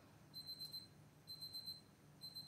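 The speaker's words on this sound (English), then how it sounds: "Good thing I set a timer, huh?" Timer alarm going off in a workshop during a McCulloch 10-10 chainsaw ignition repair: faint, high, repeated beeping in short groups over a low steady hum, with no voices.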